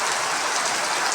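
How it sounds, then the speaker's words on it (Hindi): Heavy rain pours steadily during a sudden weather change in Shopian district, a dense, continuous hiss of drops on surfaces close by, with no voices over it. "खतरनाक तेज बारिश हो रही है।"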